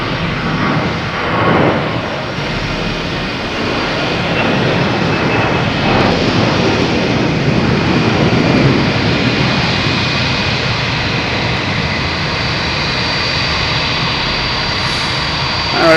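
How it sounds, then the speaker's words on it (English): A Spirit Airlines jet at Boston Logan Airport makes a loud, continuous engine roar that swells slightly midway and stays broad and steady, fairly near, with no one speaking. "Spirit Airlines making the racket down here"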